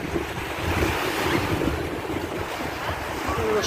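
Steady wind and surf at a long beach on a bay in Vlorë, Albania, a continuous broadband roar of breaking waves with wind buffeting the microphone and no pauses.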